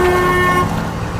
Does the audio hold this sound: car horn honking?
yes